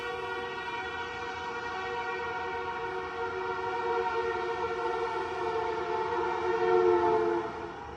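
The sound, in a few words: fire truck or ambulance siren passing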